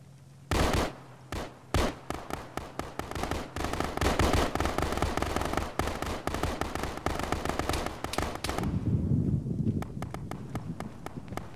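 Rapid gunfire in an Arma firefight, played by a ShackTac group: dense, loud bursts of automatic shots with sharp separate cracks at first, running for several seconds before dropping to a quieter rumble.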